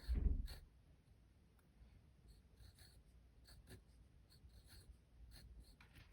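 A brush strokes words across watercolor paper, a faint soft scratchy rasp continuing in short irregular strokes after a brief louder bump at the start.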